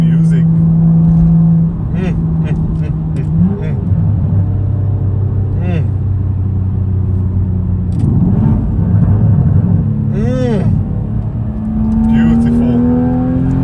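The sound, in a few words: BMW M135i engine revving from the exhaust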